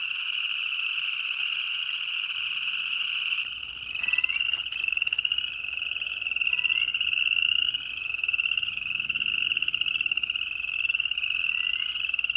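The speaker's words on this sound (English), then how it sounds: "listen to the frogs." A dense chorus of frogs croaks and trills continuously, loud and steady throughout, with faint low rustling underneath.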